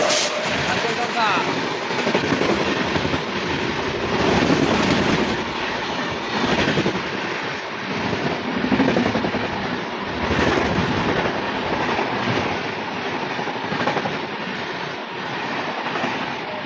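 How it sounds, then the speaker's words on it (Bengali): A Kanchenjunga Express on the Sealdah–Silchar route overtakes a Rampurhat–Bardhaman MEMU local on a parallel track, making a loud, steady rumble and rattling wheel clatter that fill the whole stretch without pause. "কাঞ্চনজঙ্ঘা এক্সপ্রেসের ওভারটেক আমাদেরকে দেখায়"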